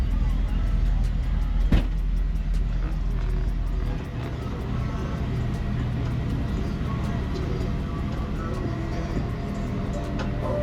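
A V8 car engine idles with a steady low rumble, a brief rev spike near the start, then settles into an even drone.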